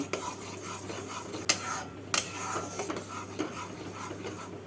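A utensil stirs and scrapes palm fruit pulp in a wok, with irregular clinks and a steady scraping texture over a faint background hum, and no talking.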